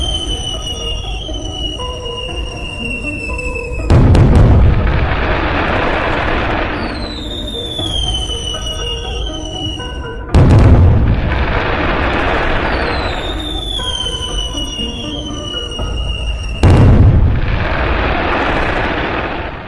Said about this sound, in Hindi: सबसे पहले बाबा 9 शॉट्स वाला स्काई शॉट जलाते हैं